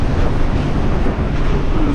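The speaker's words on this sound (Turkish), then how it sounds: "rüzgarla birlikte dalgalar başladı" At sea on a sailboat near Athens, a 22-knot wind with rain drives rising waves. The wind and water make a dense, unbroken roar, loud and close throughout.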